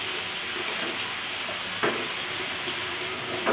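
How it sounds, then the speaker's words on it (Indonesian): Ground spice paste sizzles steadily in hot oil in a pan, a continuous broad hiss with a couple of brief stirring clicks. "kita akan tumis bumbu yang tadi sudah kita haluskan"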